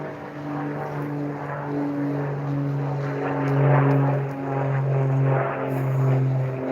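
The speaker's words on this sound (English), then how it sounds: "Airplane overhead." Propeller airplane passing overhead outdoors near an abandoned hospital, a steady loud droning hum that swells and fades slightly as it crosses, with no talking.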